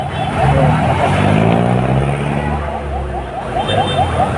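Car traffic on a busy Manila street, with loud engines droning and revving close by and vehicles rumbling past, while a voice talks over the noise.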